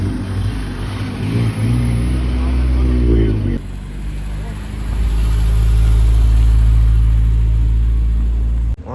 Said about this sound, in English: I guess the NSX is leaving